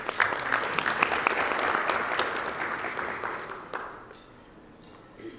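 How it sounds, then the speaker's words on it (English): A forum audience at the Uganda Tourism Trade and Investment Forum in Dubai applauds steadily, a dense crowd clapping that holds for about four seconds before thinning and fading. "Round of applause, ladies and gentlemen."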